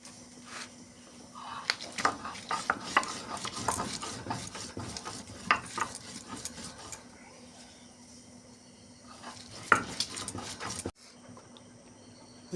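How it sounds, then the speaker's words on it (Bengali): Red lentils with two or three green chillies ground into a paste for a bora curry; irregular, fairly close scraping and knocking strokes continue steadily, then stop abruptly near the end. "ডালটা বেটে নেব। ডাল বাটার সময় এর মধ্যে 2-3টে কাঁচা লঙ্কা দিয়ে দিতে হবে"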